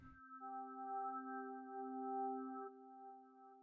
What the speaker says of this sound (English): I used bright pads from Expand 2 and mysterious bells.